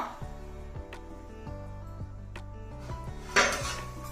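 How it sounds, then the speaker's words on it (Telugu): A lid is set down onto a pot of simmering fish curry (bommidai pulusu) in a home kitchen, giving a few light metallic clinks and then one louder clank near the end. "ఇప్పుడు మూత పెట్టి"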